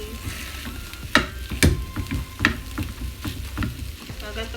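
Corned beef hash frying in a pan over low heat, a steady soft sizzle with scraping and stirring knocks from a utensil recurring through it, fairly close.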